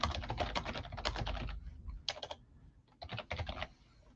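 Close, rapid typing on a computer keyboard with a few short pauses between bursts of clacking keys; nobody talks over it.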